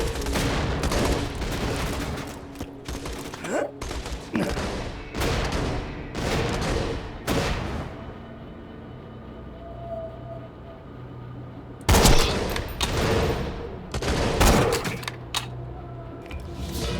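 Rifle fire in Borderlands 2 from a scopeless safari rifle, loud sharp shots in bursts of several close cracks, then a quiet pause before another cluster of shots.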